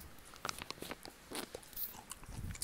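Someone bites and chews a shrimp-shaped konjac snack up close, making soft, wet crunching and squelching bursts in an irregular rhythm at low volume.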